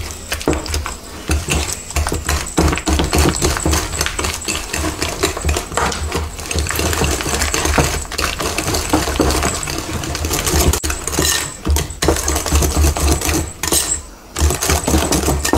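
Mascarpone being mixed vigorously in a bowl, a continuous close rattling whir with fast clicking texture that runs almost unbroken and briefly dips near the end.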